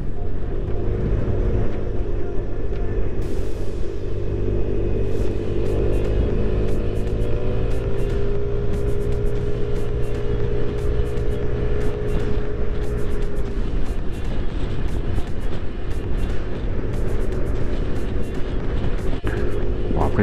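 A car drives along a very winding road at around 40 km/h, its engine and tyre rumble steady and close throughout, with a sustained tone, faint ticks and a brief swell partway through; nobody talks.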